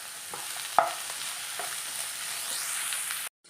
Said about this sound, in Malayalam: നമ്മൾ സവാളയും ഇഞ്ചി വെളുത്തുള്ളിയും കൂടെ ചതച്ചതും ചേർത്ത് കൊടുത്തിട്ടുണ്ട്.